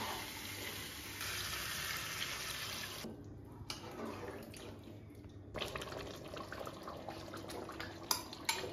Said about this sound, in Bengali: এবার একটু গরম জল দেবো।